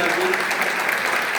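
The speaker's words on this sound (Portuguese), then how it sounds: "vamos aplaudir os meninos aqui" Church congregation applauds in a brief burst of steady clapping, fairly close and moderately loud, with no voice rising above it.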